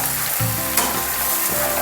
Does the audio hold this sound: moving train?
no